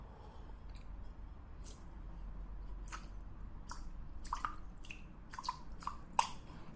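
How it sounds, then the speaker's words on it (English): Water squirted from a mouth in a series of short wet spurts and drips, quiet and close, with several brief splashy bursts spaced apart over a low background hiss. "get a mouthful of water and squirt the water as far as you can"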